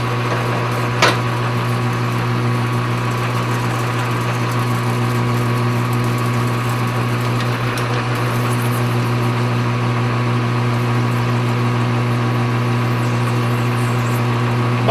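Steady droning hum of a lathe turning at 200 RPM while cutting steel stock for a custom race car shock bolt, loud and continuous with a faint scrape and a brief knock near the start.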